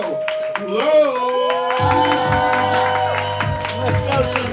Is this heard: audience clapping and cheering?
yes